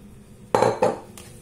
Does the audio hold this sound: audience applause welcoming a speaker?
no